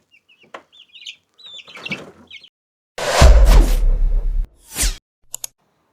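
Chicks and chickens clucking and chirping at close range in a coop, scattered calls at first, then a burst of louder squawking and flapping before a few final peeps.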